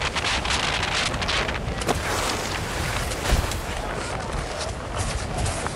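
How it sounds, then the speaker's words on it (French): Strong mountain wind batters the microphone during speed riding on a French ski slope, a loud, continuous roar with gusting swells and buffeting throughout. "Oh, le vent!"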